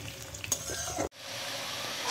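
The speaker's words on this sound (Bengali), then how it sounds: "ফোড়নের সঙ্গে আলুটা আমি ভালো করে ভেজে নেব।" Potatoes fry with whole cumin tempering in hot oil for mochar dhoka, giving a steady close sizzle with stirring scrapes, broken by a sharp momentary cutoff partway through before the frying resumes.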